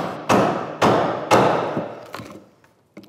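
Chisel struck repeatedly while chopping waste wood from a workbench joint, three heavy close thuds with ringing decay, then a couple of lighter taps and a final small knock.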